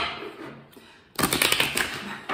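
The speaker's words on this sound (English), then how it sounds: "when I just shuffle the cards in here, it's so loud" Tarot cards being shuffled, loud and close: a quiet lead-in, then a dense burst of rapid crisp riffling flutters for about a second, followed by a short final snap.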